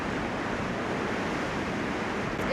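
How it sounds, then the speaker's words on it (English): Big surf pounds against rocky shore, a dense continuous roar of breaking waves and rushing water, loud and steady without pauses. "The conditions are big surf, there's lots of seaweed out the front."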